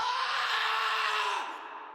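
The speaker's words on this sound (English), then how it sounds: "So there's a scream." A loud, drawn-out scream in the video game Project: Eden's Garden rings out for about two seconds, sustained and strained before trailing off at the end.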